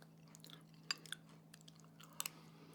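Homemade four-cheese ravioli being chewed during a taste test, with a few soft, close crunching bites and mouth sounds over a steady low background hum, no talk.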